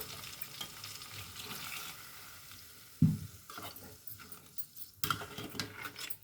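A stuffed brinjal (guthi vankaya) masala curry sizzles and bubbles softly in a pan over a medium flame. A couple of sharp utensil knocks break through the faint, steady frying.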